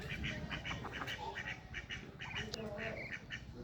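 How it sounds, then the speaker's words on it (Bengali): Ducks quacking repeatedly in a rapid, busy chorus in the morning while they wait to be fed, moderately close, over steady outdoor background noise. "হাঁসগুলি অপেক্ষা করতেছে খাবারের জন্য।"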